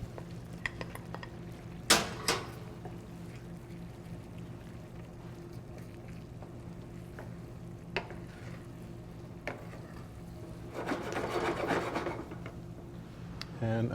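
Lobster goes into a creamy risotto in a pan and is stirred, giving soft scraping and quiet sizzling, with a louder clatter early on and a rising wet stirring burst near the end, all faint and close.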